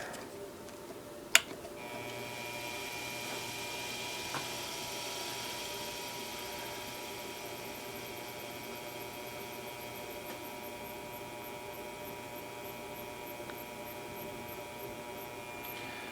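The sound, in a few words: belt-driven spindle running on low gear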